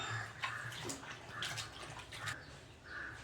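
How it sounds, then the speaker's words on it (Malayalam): Squeezed tamarind water is poured into a Palakkad-style sardine and okra curry, giving faint, soft liquid splashing and trickling with gentle drips. "നമുക്ക് വാളംപുളി പിഴിഞ്ഞൊഴിക്കുക"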